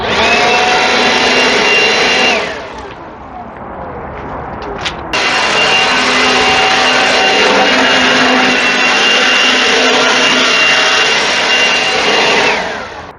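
A DeWalt 20V MAX XR cordless leaf blower, rated 125 mph and 450 CFM, roars loudly and steadily. It dips briefly in the middle, then returns to full power until it cuts off at the end.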